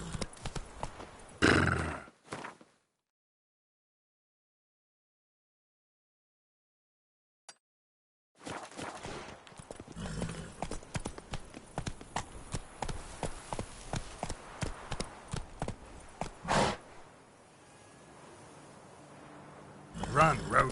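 Roach, a horse in The Witcher 3: Blood and Wine, gallops in loud rhythmic hoofbeats with a whinny, broken by a long stretch of silence, then pounding again under the game's ambience, with short spoken lines from the game.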